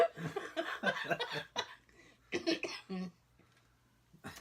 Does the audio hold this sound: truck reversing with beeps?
no